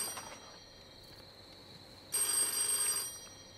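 A telephone rings in a train station stationmaster's office during a wartime action film scene, a single loud electric ring burst cutting in partway through over quiet room tone.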